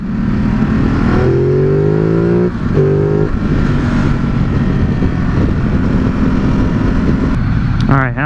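A 2017 Ducati Multistrada 950 motorcycle engine on a demo ride, droning steadily with rising pitch sweeps as it accelerates through gears, loud and close, with wind rush underneath and a sharp rev at the end.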